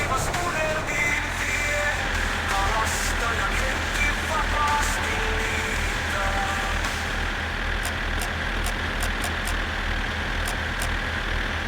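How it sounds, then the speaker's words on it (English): Tractor engine in My Summer Car played at full volume, a loud, constant droning rumble with a rough mechanical rattle that fills the whole stretch, briefly with a voice over it at the start and faint clicks near the end. "This is how loud the tractor is."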